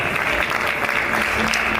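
Audience at a food and cooking festival masterclass applauds as chef Frédéric Molina of Le Moulin de Léré takes the stage, a steady dense wash of clapping filling the short moment without a pause.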